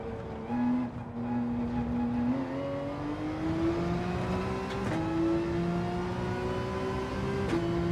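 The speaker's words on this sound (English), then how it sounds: "Just going to give the Porsche a couple of laps." A Porsche race car in Gran Turismo 7 runs laps, its engine droning steadily and climbing gradually in pitch as it accelerates, with a brief dip and upshift near the end, loud and continuous with no talk.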